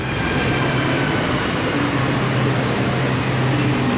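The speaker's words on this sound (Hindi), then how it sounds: "और आएगी मेट्रो" A Delhi metro train arrives at a station with a loud, steady rumble, thin squealing tones from the wheels and rails, and a few high whines throughout.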